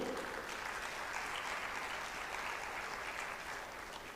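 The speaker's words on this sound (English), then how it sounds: "Please put your hands together for Shah Yusuf" Audience at a journalist awards ceremony applauding Shah Yusuf, a steady even wash of many hands clapping, moderately near, lasting several seconds without voices.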